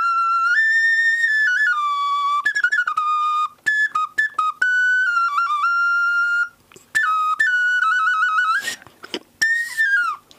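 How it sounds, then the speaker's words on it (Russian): A folk clay whistle blown in a series of bright, warbling shrill tones, sustained notes broken by quick trills and short gaps, loud and close with no voices. "Но сначала такие свистульки, которые... Вот народные,"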